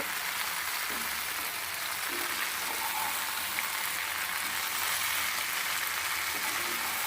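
Jujube pickle frying in a pan with salt, a steady close hiss and crackle of sizzling that runs evenly throughout without pause.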